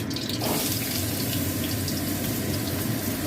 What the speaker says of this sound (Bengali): এবার আমি এই তেলেতে কুমড়োটা ভেজে নেব।